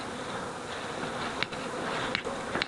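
Honeybees buzz steadily around mini nucleus hives being stocked with bees, a dense close hum filling the whole stretch with a few sharp clicks and knocks.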